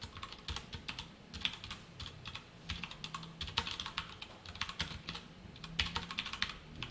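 Rapid computer keyboard typing while code is entered, with dense, irregular clicks and key taps running steadily throughout at close range, no voices.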